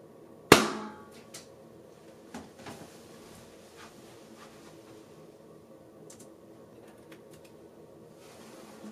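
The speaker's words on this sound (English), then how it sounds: "here comes the balloon pop" A single sharp balloon pop, burst to capture a room's reverb impulse response, cracks loudly near the start and decays quickly into a quiet room with faint scattered ticks afterward.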